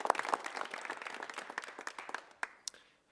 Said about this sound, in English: Let's just all give them a big round of applause for the great job that you all do every day.